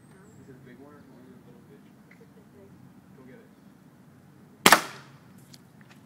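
One sharp air rifle shot cracks out near the end, sudden and loud after quiet background voices murmuring at a distance.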